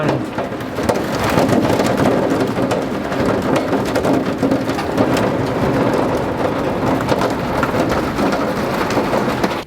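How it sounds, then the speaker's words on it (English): Heavy rain pounds steadily at a campsite during a thunderstorm, a dense, loud, continuous roar of downpour with low rumbles of thunder woven through it, no voices. "it's pretty loud when it rains hard"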